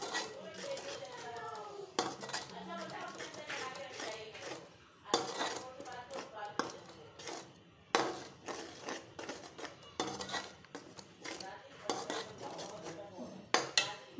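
Spices roasting in a pan for a chicken chana masala, with repeated metal clinks and scrapes of a spoon stirring against the pan, close and fairly soft, with speech in places.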